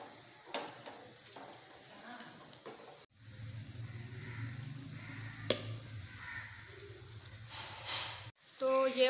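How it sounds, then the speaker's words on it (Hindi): Pakoras frying in hot oil for Punjabi karhi give a steady close sizzle, with stirring scrapes and light clinks, a short pause and then a fuller bubbling fry. "तो ये वाले भी हमने पकौड़े फ्राई कर लिए"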